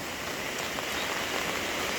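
Heavy rain with strong wind: a steady, dense broadband hiss of rain pouring onto surfaces, constant and fairly loud for the whole stretch, with no voices.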